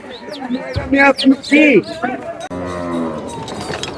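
Cattle at a busy haat cattle market where bulls are sold for Qurbani let out a few loud, close, drawn-out moos, with people talking around them.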